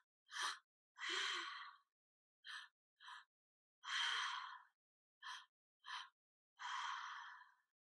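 Deep, powerful breaths during guided meditation, heard as eight close, breathy inhales and exhales in an uneven rhythm, separated by silence.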